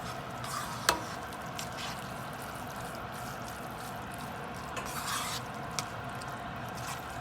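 Guyanese vegetable cookup rice with kidney beans being stirred in a pot, soft scraping and wet bubbling under a steady low simmer, with a few brief sharp clinks of a spoon against the pot.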